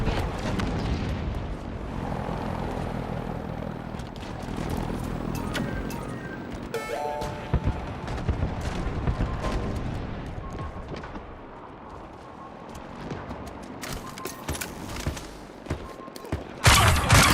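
Dense Halo Infinite combat with needler and grenade launcher fire, overlapping bursts, booms and sci-fi weapon tones in a loud continuous mix, ending in heavier explosive hits.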